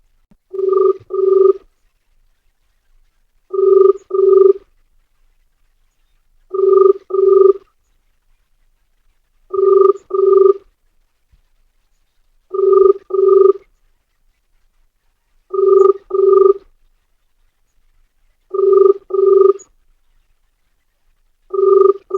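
A mobile phone rings on its own, loud and close, in a steady pattern of paired bursts repeating about every three seconds through eight cycles.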